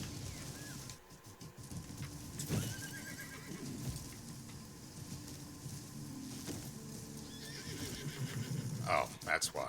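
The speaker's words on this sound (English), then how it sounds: "It's been a while since I've seen a wild horse." A wild horse in the video game Crimson Desert neighs and whinnies several times, with hoof clip-clops and faint birdsong in the background.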